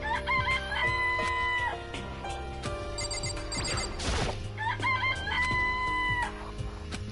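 Game sound effects of chickens in a coop in Danganronpa Trigger Happy Havoc: bright, repeated crowing and clucking calls in two bursts over a background music track, with a brief noisy swish between them.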